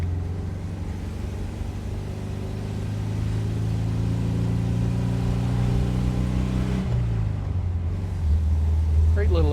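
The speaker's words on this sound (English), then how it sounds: "Great little exhaust note from that little 1200cc, 4-cylinder, air-cooled, 4-speed manual gearbox" A 1964 Volkswagen Karmann Ghia convertible with a 1200cc air-cooled four-cylinder and four-speed manual gearbox, heard from on board as its steady exhaust drone builds. Near the end the pitch drops as it shifts, then it pulls again.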